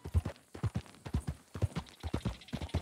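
Horse hooves clip-clopping on a trail in Red Dead Redemption 2, a steady rhythmic trot of close, moderately loud hoofbeats with no talk over them.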